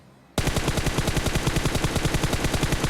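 A sustained stream of automatic weapon fire in the mobile shooter PUBG Mobile bursts in suddenly and hammers on loudly and close, shot after shot in a fast, steady rhythm.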